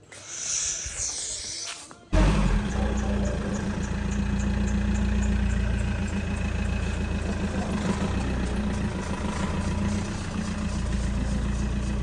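A tractor engine idles as it is taken out, a loud, close, steady diesel rumble that starts abruptly after a couple of quieter seconds and holds evenly to the end.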